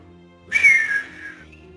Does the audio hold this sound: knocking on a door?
no